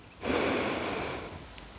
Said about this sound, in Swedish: så tar ni ett par djupa andetag